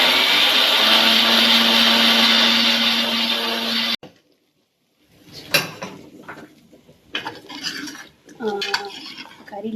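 A kitchen mixer grinder grinds coconut with a spoonful of fennel seeds. It gives a loud, steady whirring hum for about four seconds, then stops abruptly, followed by clinks and clatter of utensils.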